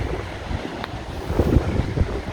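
Wind gusts buffet the microphone near a beach, a rough, rumbling blustery noise with surf-like swells, loud and close throughout.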